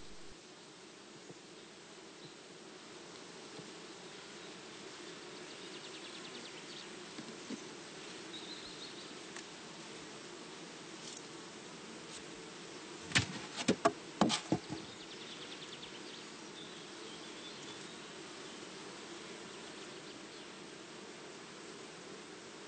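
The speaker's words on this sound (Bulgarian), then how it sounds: "Събрани с четка или изтръсквани в фунията, пчелите попадат в съндъчето отдолу." Honey bees hum softly and continuously as they are brushed off combs from a multi-storey hive into a funnel, with a brief cluster of brushing scrapes midway.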